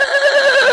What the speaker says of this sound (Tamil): குதிரைகள் கனைத்துக் கொண்டே செத்து விழுந்தன.